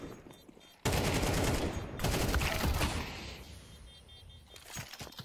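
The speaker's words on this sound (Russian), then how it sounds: "Хорошая стрельба от Андрея." Counter-Strike gunfire during a competitive match: sustained rapid bursts of automatic rifle fire erupt after a quiet start, loud and dense, with scattered shots continuing and tapering toward the end.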